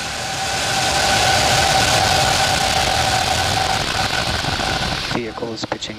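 A Falcon rocket's engine ignition and liftoff carrying a space telescope: a loud, steady broadband roar holds for about five seconds with a sustained tonal hum, then cuts out abruptly into faint scattered clicks.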